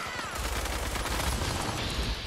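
Gunfire crackles during a Fallout 4 Sim Settlements skirmish, with rapid overlapping shots from several weapons in a steady, busy volley that sounds fairly close.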